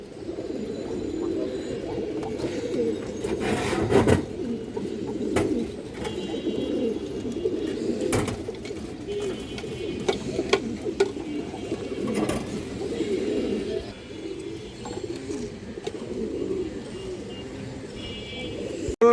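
Steady low cooing from several pigeons fills the background, with occasional wing flutters and clicks, while someone talks over it.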